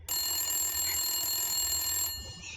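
A telephone rings with one steady, sustained electronic bell tone, loud and close, that cuts off near the end with no talk over it.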